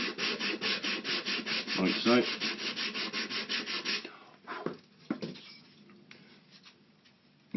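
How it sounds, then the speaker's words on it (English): Rhythmic scraping of a sanding block smoothing the edges of Spitfire scale model parts, about a dozen quick even strokes close up, then quieter scattered rubs and a brief spoken phrase. "take your sanding block and just clean those edges up nicely"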